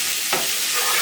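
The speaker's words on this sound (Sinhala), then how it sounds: "මිරිස් කුඩු දාලා පොඩ්ඩක් කලවම් කරලා" Chili powder being stirred into egg bhurji frying in a pan gives a steady close sizzle, with a brief scraping stir near the start.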